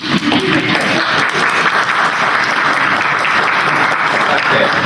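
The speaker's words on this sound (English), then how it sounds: "So I want you all to clap." Large audience at a stress-management talk applauds loudly and continuously, a dense, unbroken wash of clapping close to the listener throughout.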